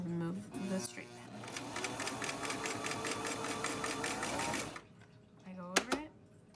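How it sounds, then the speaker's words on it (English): A sewing machine back-stitches over elastic on a fabric face mask, running in a fast, even, rapid-fire burst for several seconds before stopping. A voice speaks briefly at the start and again at the end. "I go over it, and then I back stitch over the elastic to keep it in place"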